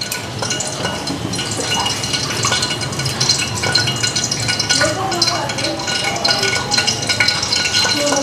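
Oil heats in a pan on the stove, giving a steady broadband hiss with faint crackles and light clinks that rise slightly toward the end, close and continuous.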